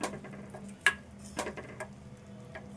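Food in a pot is stirred and mixed for an old-style home-cooked dish, giving faint scraping and a few soft clinks of spoon against the pot over a low steady hum.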